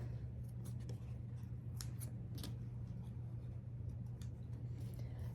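Scissors snip through quilt fabric pieces in a quick series of faint, crisp cuts over a steady low hum.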